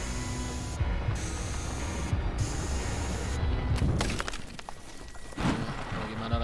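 A spray nozzle in a cleaning video game hisses in short bursts with mechanical clicking, followed by a longer rattling spray near the end, with no talk.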